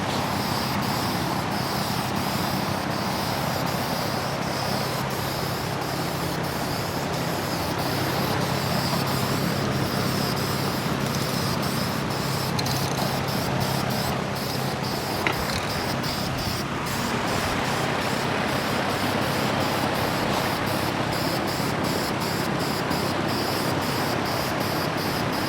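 Light coats of spray paint going onto a cleaned-up Ford 302 V8 engine for a Mustang, a steady close hiss running throughout with a brief sharper burst midway.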